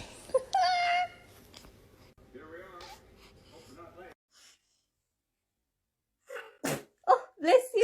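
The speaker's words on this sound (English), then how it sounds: "Baby is a dramatic sneezer check." A baby sneezes in a sharp, dramatic burst, followed by small breathy sounds and snorts, with adults talking softly before and after and a short silent gap in between.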